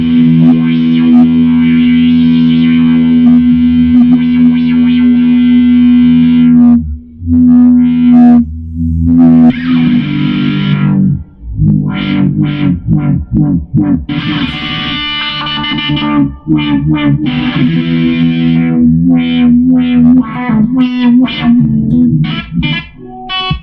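An audio effects unit run through a high pass filter gives a loud, sustained buzzing synth-like tone with distortion, cutting off abruptly several times and then returning in choppy bursts.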